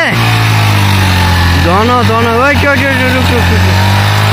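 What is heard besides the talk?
motorcycle engine misfiring while pulled from mud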